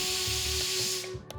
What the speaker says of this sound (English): After that, wait for the steam to release.